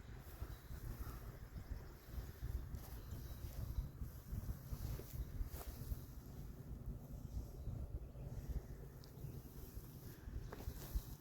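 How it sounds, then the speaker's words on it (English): Wind buffets the microphone on a hilltop cemetery, a steady low rumble with gusty swells throughout and no voices. "when the wind's blowing, a lot of times it's blowing a whole lot harder up here."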